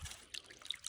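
Cold spring water trickles out of a long pipe in a soft, faint dribble with small bubbling spots, brief and unbroken.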